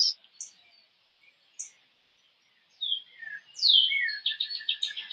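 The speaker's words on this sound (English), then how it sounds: "hearing the birds." Birds chirp outdoors on a quiet spring day, scattered thin high tweets at first, then a denser burst of rapid trilling song near the end, fairly close and alone without talk.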